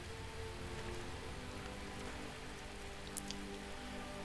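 Steady, dense rainfall in the Skyrim Special Edition video game, a continuous soft hiss of drops on surfaces with no talking and one faint brief click.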